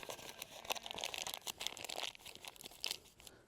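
A plastic bag crinkles and rustles as it is folded and stuffed away while packing up at a wild camp, a close series of irregular crackles and crunches.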